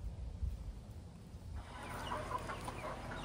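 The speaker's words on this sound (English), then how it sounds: "So I got another rooster and four more hens right here pecking at something." A rooster and four hens pecking and clucking outdoors near a hoop coop, giving low scattered clucks and faint scratching at moderate distance, becoming busier halfway through.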